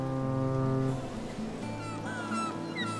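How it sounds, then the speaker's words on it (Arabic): A deep, steady ship's horn blast sounds for about a second, then fades into a busy background with faint high chirping calls. "صوت الباخرة"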